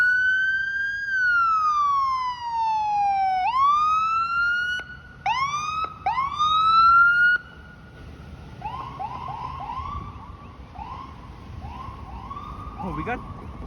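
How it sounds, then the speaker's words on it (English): On a Friday night in downtown Toronto, an ambulance siren wails up and down nearby, then switches to a rapid yelp, with a second siren warbling farther off and traffic underneath. "Ooh, we got sirens. There's the ambulance."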